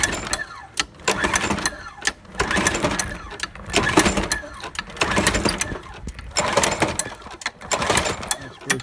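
A Craftsman 7HP lawnmower engine on a cold start after gas is added, heard as repeated pulls that crank and cough in rhythmic bursts, each a few seconds long, loud and close, without catching into a steady idle.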